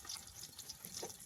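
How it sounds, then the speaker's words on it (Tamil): Water splashes and runs over raw beef being rinsed in a pot for a village-style beef curry, a short steady wash heard alone, close and fairly soft. "தண்ணி இருக்கு. ஒரு அலசு அலசிடலாமா?"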